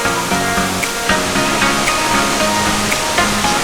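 Waterfall at Mambukal Falls near Bacolod, a steady broadband roar of falling water that fills the whole clip, close and loud, with no talk over it.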